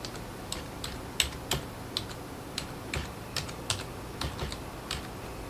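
Fingers type on a computer keyboard in quick, irregular bursts of soft clicks, close and quiet with no talking.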